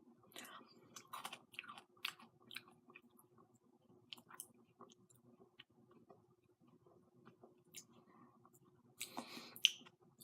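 Crisp, crunchy chewing of frozen mulberries close to the mic, with irregular bites and crackles spread across the clip and a louder burst of crunching near the end.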